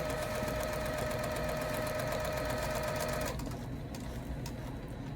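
A sewing machine stitching a 5/8 inch seam on repurposed pillows, heard as a loud close rapid mechanical whir with a high tone that stops partway, leaving a softer lower running hum.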